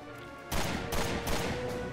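The High Roller gun in Resident Evil Revelations 2 fires about three heavy booming shots, each roughly half a second apart, over a steady background game tone.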